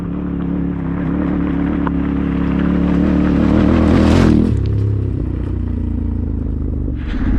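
A Yamaha Tenere 700 motorcycle climbing a trail, its engine droning steadily close by, swelling louder as it nears, then fading, with wind noise over the top.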